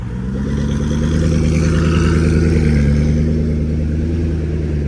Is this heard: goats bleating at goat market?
no